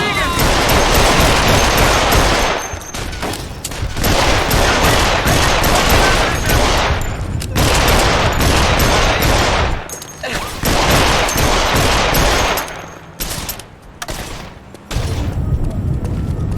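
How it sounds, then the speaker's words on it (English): Sustained bursts of gunfire from The Saboteur video game, dense overlapping shots and automatic fire roaring loud and close almost continuously, with brief lulls and a voice speaking amid the shooting. "Why are you shooting at me?"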